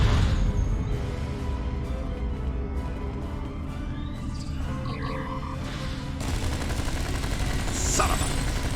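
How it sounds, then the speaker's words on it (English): Disruptor weapons fire in the game Star Trek Online crackles in a steady, dense barrage of rapid shots. It continues for several seconds over a busy layer of combat ambience. "I can't get this done if they keep shooting me."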